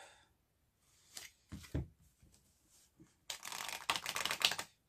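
A stiff new deck of cards is shuffled by hand, with a few separate soft flicks and taps followed by a louder riffling burst near the end, close and fairly quiet.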